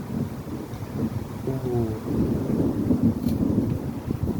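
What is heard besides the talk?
strong wind blowing before a thunderstorm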